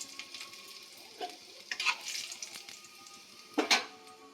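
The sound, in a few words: chopped garlic frying in hot oil in a wok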